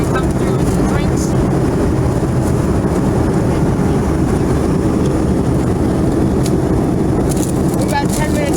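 A steady, loud, unbroken roar of jet cabin noise fills the inside of an Envoy Air Embraer E145 regional jet climbing above the clouds.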